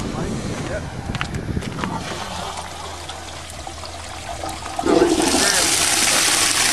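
Water rushes from the opened valve of a farm water tanker, bursting out loud and close after a quieter stretch with some voices and trickling, then pouring steadily.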